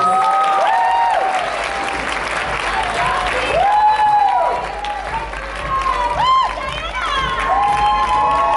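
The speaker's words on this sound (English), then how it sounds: "Let's give them a big round of applause." An audience at the Miss Vietnam DC pageant applauds and cheers loudly and steadily, with shouts and whistles rising over the clapping and a host's voice cutting through at times.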